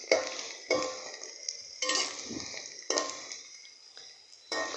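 Onions browning in a pan for vegetable pulao, with a steady sizzle broken by several loud scraping stirs of a spoon against the pan, close and without any talk.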